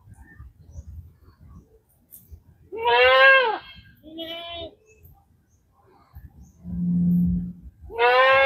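Goats in a herd on a farm bleat in loud wavering calls, two close together then more after a pause, with a low deeper call between and faint background noise.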